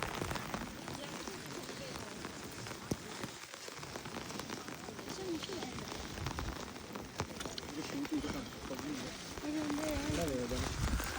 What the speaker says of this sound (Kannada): ಇಲ್ಲಿ ಬಂದಮೇಲೆ ಮಳೇಲಿ ನೆಂದಮೇಲೆ ಗೊತ್ತಾಗ್ತಾಯಿದೆ ಇದೊಂಥರ ವಿಚಿತ್ರವಾದ ಮಳೆ